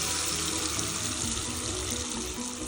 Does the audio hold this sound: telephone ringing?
no